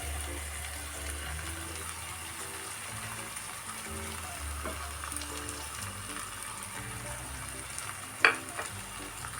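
Eggs frying in a pan with bhindi (okra) give a steady, close sizzle that crackles evenly throughout, with one sharp utensil click near the end.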